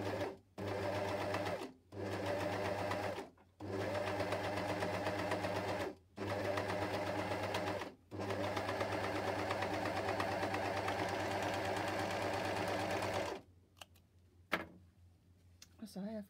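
An air overlock sewing machine stitches fabric in several loud, rapid whirring bursts separated by brief pauses, before stopping near the end, with a few quiet handling clicks afterward.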